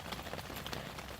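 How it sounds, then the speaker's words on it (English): Rain falling outside a tent during a stormy, flooded camp on a bicycle tour in England: a steady, close hiss of drops pattering on fabric, even and continuous with small irregular taps throughout. "I knew it was raining and I woke up."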